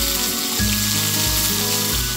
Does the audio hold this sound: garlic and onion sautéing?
yes